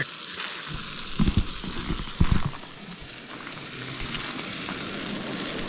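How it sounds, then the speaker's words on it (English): Food crackles and sizzles steadily in a hot pan at a winter campsite, with a couple of louder clinks of stirring partway through. "it's sizzling away and it seems to be cooking"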